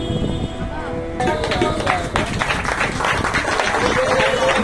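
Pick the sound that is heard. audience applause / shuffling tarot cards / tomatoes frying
audience applause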